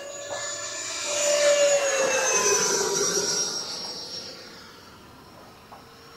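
A newly painted Scorpion model jet, just taken off without flaps, passes overhead with a high turbine whine and hiss that swell loud, then slowly fade into the distance.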